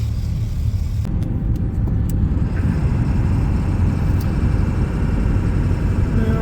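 A heavily loaded pickup truck drives a snowy road out of Anchorage near Wasilla, its engine and tire rumble steady and close throughout, with a few faint clicks early on and no talk.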